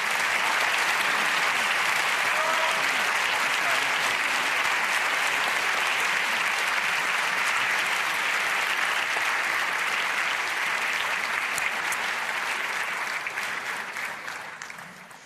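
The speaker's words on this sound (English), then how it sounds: "Give a warm applause of LUX 2024." A large audience gives a long, warm ovation for the LUX 2024 award winners at a reveal ceremony; thick, even clapping holds steady for about twelve seconds before fading.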